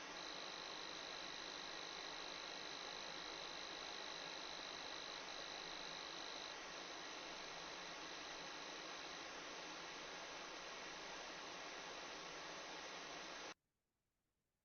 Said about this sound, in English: we play these tones with white noise in the background